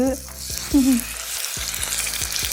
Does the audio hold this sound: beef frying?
yes